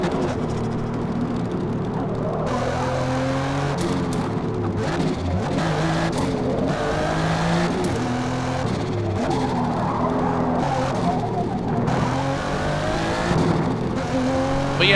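A race car engine revs and shifts through gears on the Fujimi Kaido mountain course in Forza Motorsport, loud and continuous, with tires squealing and skidding through the corners.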